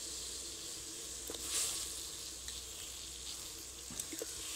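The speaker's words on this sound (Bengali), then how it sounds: "গরম হয়ে গেলে পর আমলকিগুলো ধুয়ে আমি কড়াইয়ের মধ্যে দিয়ে দেব।" Washed amla gooseberries hit a hot wok and give a faint, steady sizzle and hiss, with a few soft clicks and stirring sounds.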